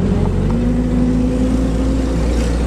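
An old Datsun car with a carburetor accelerating at full throttle: a loud, steady, droning engine and road roar heard from inside, with a slowly rising tone and no talk.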